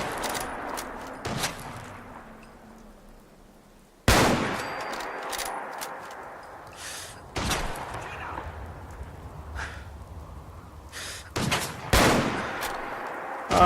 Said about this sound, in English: he's shooting a shotgun at me